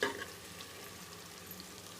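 Ginger sizzling in a pan alongside golden-brown onions, a steady close frying crackle with faint stirring scrapes throughout, no voices.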